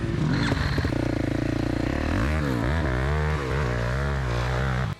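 A motocross motorcycle engine runs loud and close throughout during a training session, its pitch rising and falling as it revs and shifts, then cuts off abruptly at the end.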